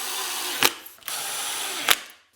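A power drill driving screws to fasten down a table saw sled insert, a steady whirring run broken by a couple of sharp clicks and a brief stop, close by, ending as the motor winds down.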